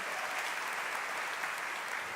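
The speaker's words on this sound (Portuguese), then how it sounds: "Vamos aplaudir mais uma vez bem forte ao Senhor." A congregation at a youth movement church gathering claps loudly together, a dense, even wash of applause lasting about two seconds, with no voices heard over it.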